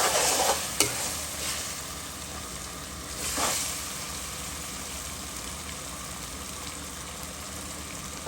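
Onions fry in a pan for Bangladeshi-style beef brain bhuna, with a loud continuous sizzle and the scrape of stirring close by; the hiss swells briefly as the spoon moves, with no talking.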